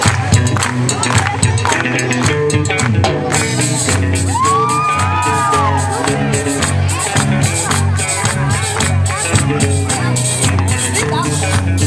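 A concert crowd in Tuxtla Gutiérrez claps and cheers over loud live music, with whoops and shouts rising above a continuous band groove.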